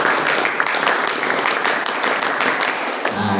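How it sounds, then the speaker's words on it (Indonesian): A group of people clapping together in a quick burst at a youth religious gathering, dense and loud for about three seconds before stopping abruptly. "Nah itu namanya tepuk 3."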